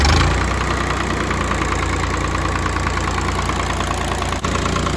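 An old tractor left sitting in the woods runs steadily after its fuel system was bled, a loud, continuous engine drone with an even low throb and no talk.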